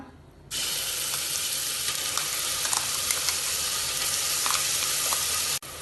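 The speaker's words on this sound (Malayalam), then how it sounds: "ഇതിന് കുറച്ച് സമയം ഇളക്കി വഴറ്റാം" A ground paste of shallots, ginger, garlic and green chilli lands in hot ghee for chicken biryani and sizzles loudly and steadily, with faint stirring clinks under the frying hiss until it cuts off abruptly.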